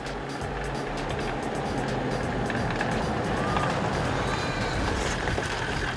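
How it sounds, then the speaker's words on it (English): A 4x4 rumbles along at steady speed during a brake test, engine and road noise droning continuously with a faint whine over the top. "we're just going to pop down here and do a quick brake test"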